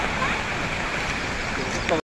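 River water pours over a weir, a steady close rushing hiss with a voice faintly underneath, cutting off abruptly at the end.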